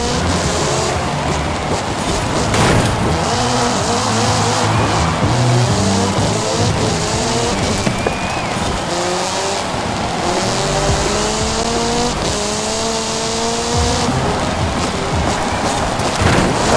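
A race car in Forza Horizon 5 roars continuously at full volume, its gears shifting as revs climb repeatedly, with tires squealing and skidding through slippery corners, close and dominant throughout.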